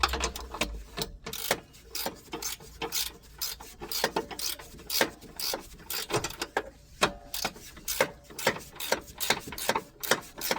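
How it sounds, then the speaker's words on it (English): A ratchet tightens the rear mount nut and bolt of the lower suspension control arm on a 2015 Nissan Qashqai. Close, rapid rhythmic clicking and rasping strokes repeat steadily throughout, with no talking. "now we're going to secure the rear mount nut and bolt"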